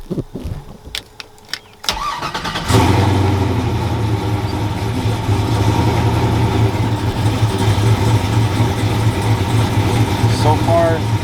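A car engine cranks after some clicks and catches, then settles into a loud, steady idle that carries on for several seconds.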